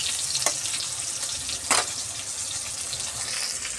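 Eggplant fries in hot oil in a wok with a dense, continuous sizzling hiss and a couple of brief stirring scrapes, close and steady with no talking.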